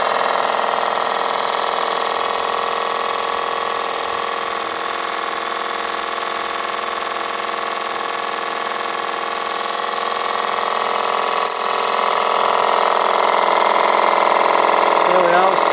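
Steam engine of a century-old restored steam boat running on 25 psi, a steady close hum and low mechanical drone with faint vibration, continuous throughout while someone talks over it.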